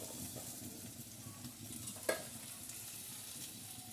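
Green chillies frying in a pan, a steady soft sizzle throughout with a brief stir or clink of a utensil near the middle, close and fairly quiet.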